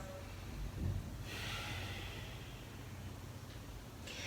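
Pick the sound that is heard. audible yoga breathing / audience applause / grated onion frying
audible yoga breathing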